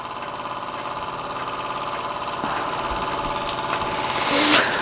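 A small scratch-built model marine steam engine runs steadily on a gas burner, giving a close, even mechanical chuffing and rattling hum with a brief hiss near the end.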